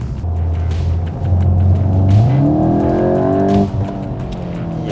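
A 2021 VW Golf 8 GTI with an Eisenmann exhaust pulls away under throttle, its engine note rising steadily and loud from a low drone to a deeper, fuller roar before easing off, with no talk.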